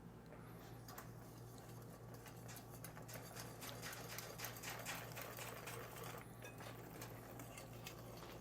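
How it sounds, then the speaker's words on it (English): A whisk beats brownie batter in a bowl, making rapid, rhythmic clicking strokes that stay fairly quiet and close throughout. "give it a good whisk"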